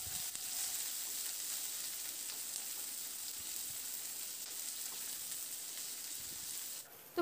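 Onions frying in a pan for a bottle gourd lau dal give a steady, fairly soft hiss of sizzling oil throughout, with only faint stirring, ending in a brief clatter.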